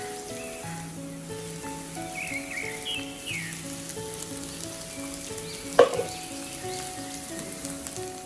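Onions and curry leaves sauté in a hot pan with a steady, close sizzle throughout, joined by faint background tones and one sharp clink of a utensil near the end. No one speaks.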